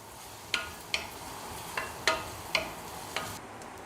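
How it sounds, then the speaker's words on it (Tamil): Onions, garlic and curry leaves sauté in a pan with a steady low sizzle, broken by six sharp scraping stirs spaced about half a second apart, close and moderately quiet. "கறிவேப்பிலை இலைகள் நல்லா இதெல்லாம் வதக்கணும். இந்த வெங்காயம் நிறம் மாறணும்."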